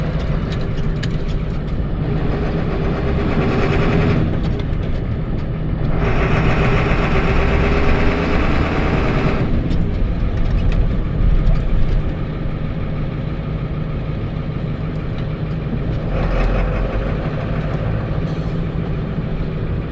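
A Ford F250 truck engine runs steadily and loudly up close as the gears are shifted, its rumble swelling and dropping in broad surges as revs rise and fall through the shifts.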